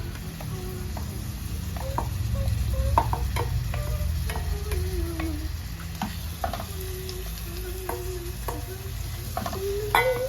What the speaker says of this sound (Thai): หลังจากนั้นนะคะ เราจะใส่ แฮมลงไปนะคะ แฮมลงไปผัดนะคะ